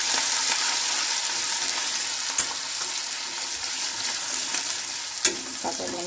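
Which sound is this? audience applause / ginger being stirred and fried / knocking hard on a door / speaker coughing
ginger being stirred and fried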